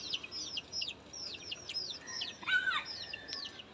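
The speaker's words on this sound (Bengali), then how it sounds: "মুরগির বাচ্চাগুলো চি চি চি চি করতেছে" Chicks chirping in a rooftop garden, a steady run of thin, high, repeated peeps with several birds calling over one another, fairly close and clear above a faint background hiss.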